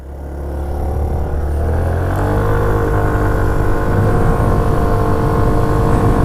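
A stock Yamaha Zuma 50 scooter engine revs up toward about 5,000 RPM, a loud close droning buzz whose pitch climbs gradually and then holds steady.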